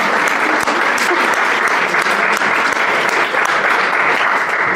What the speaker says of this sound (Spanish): Y Jorge Cabrera, un aplauso, por favor.